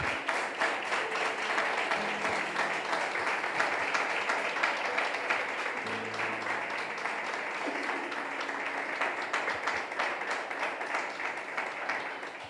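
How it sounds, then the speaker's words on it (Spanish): Congregation clapping in a church service, a dense continuous round of applause that stays steady throughout, with faint voices and a low musical tone mixed beneath. "denle un fuerte aplauso al Señor."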